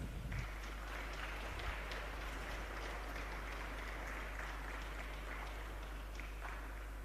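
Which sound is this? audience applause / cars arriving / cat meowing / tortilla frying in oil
audience applause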